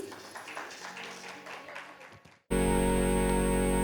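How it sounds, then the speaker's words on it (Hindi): An audience at the Aakhar festival applauds to welcome a Bundeli poet, a moderate patter of clapping that fades away, then an abrupt, loud, steady buzzing drone cuts in and fills the rest. "तालियों से जोरदार स्वागत कर लीजिए प्लीज"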